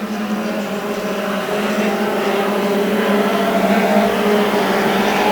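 Junior sedan race cars racing on a circuit, with a steady loud engine drone from several cars holding high revs throughout.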